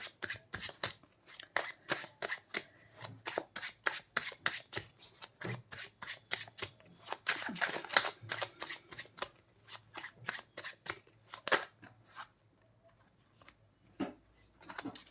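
Tarot cards are shuffled close up in a rapid run of crisp riffling bursts, pausing briefly before a few final slaps, with no talking.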